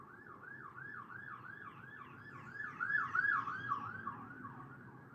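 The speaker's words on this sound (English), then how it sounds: "there go the sirens." Emergency vehicle sirens wail in a rapid repeating up-and-down pattern, moderately distant, swelling louder toward the middle as they pass and then fading, with no talking.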